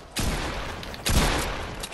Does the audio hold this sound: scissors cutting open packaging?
no